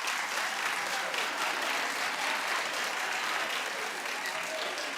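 A studio audience at a television talk show claps steadily and densely for the full stretch, a sustained wash of many hands without pause.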